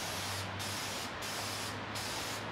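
Short bursts from a spray paint can coating an RC Jeep body in light passes, four hissing sprays with brief gaps between them, close and steady over a low hum.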